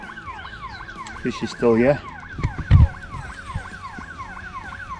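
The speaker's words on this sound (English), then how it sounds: "That's my alarm going." Electronic carp-fishing bite alarm sounding in rapid repeated rising and falling beeps throughout, close and clear, with someone talking and shouting over it.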